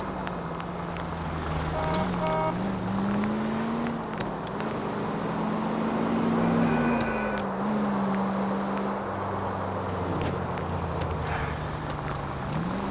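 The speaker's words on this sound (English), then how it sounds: "I like the cars because they're quiet in this game" Car driving in the game L.A. Noire, a steady low engine hum that rises and falls gently with speed, continuous and moderately loud over road and wind noise.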